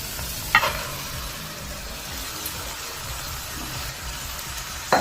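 Cauliflower egg rice being mixed in a pan, giving a low continuous sizzle with a couple of brief spoon clinks against the metal, close and steady.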